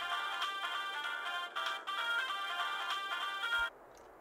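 A cell phone ringtone from GTA: The Ballad of Gay Tony plays a bright, repeating electronic melody at steady volume, with one brief dropout, then cuts off abruptly near the end, leaving quiet background.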